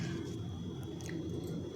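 Someone chews food seasoned with salt and chili. Close, soft, wet mouth sounds and squishing continue steadily, with no talking.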